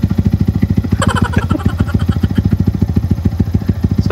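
A motorcycle fitted with an Akrapovic Hexatip exhaust, dB killer and small catalytic converter runs close by, its engine pulsing in a rapid, even, throaty beat with a brief rev blip early on.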